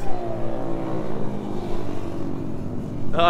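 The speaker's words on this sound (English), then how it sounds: "some guys on some bikes ripping it up" Dirt bikes ridden hard by a group of riders go past off-road, their engines revving in a loud rising and falling drone with pitch shifts as they pass, close by.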